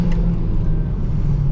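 A sleeper hot hatch car accelerating hard, a loud, steady low engine rumble that stays close and continuous for a short stretch, with no talking over it.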